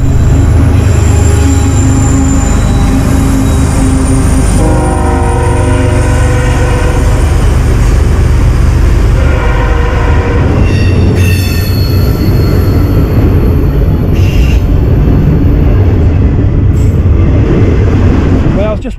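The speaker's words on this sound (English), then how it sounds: "I was just watching the train go by" A train rolls past a Victorian-era relic hunting site, a continuous loud rumble of railcars with squealing wheels and brief horn-like tones, close and steady throughout, with some talk faintly underneath.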